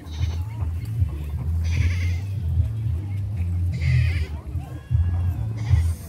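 Several goats at a rural vaquejada park in Limoeiro do Norte bleating repeatedly in short wavering calls, fairly close, with farm background noise between them.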